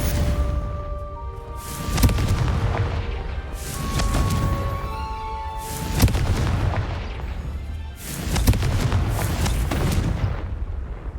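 The Confringo blasting spell blows apart pumpkins in the Hogwarts Legacy video game. Loud, booming blasts repeat about every two seconds over a constant rumbling game background, with no talk.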